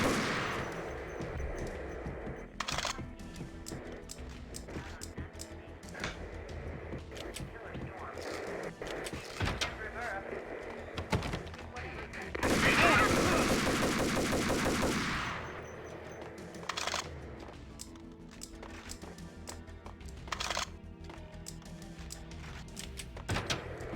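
Guns fire in the video game Max Payne as repeated sharp gunshots crack throughout, with a dense burst of sustained automatic fire in the middle and game music and effects underneath.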